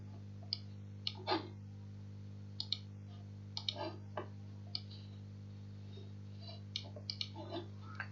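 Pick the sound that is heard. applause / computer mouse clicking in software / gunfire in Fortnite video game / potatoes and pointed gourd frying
computer mouse clicking in software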